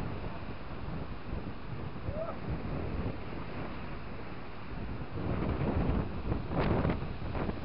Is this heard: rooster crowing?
no